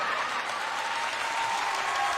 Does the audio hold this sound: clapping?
yes